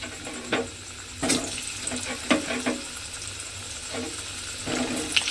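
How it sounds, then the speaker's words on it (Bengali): Diced potatoes fry in hot oil in a Bengali home kitchen, a steady close sizzle broken by a few sharp crackles and pops as pieces shift in the pan. "এখানে আমি আলুগুলোকে ডুমো ডুমো করে কেটে রেখেছি ওই তেলের মধ্যে আলুগুলোকে দিয়ে আলুগুলোকে একটু লাল করে ভেজে নেব"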